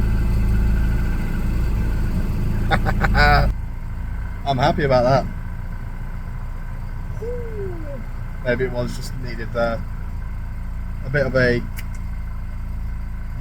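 A 1988 Volvo 240 engine idles steadily after a difficult start, a low continuous rumble running throughout while someone talks over it in short bursts.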